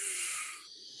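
Deep breath drawn in fully during a guided breathing exercise, a soft, close airy inhale that tapers off within about a second.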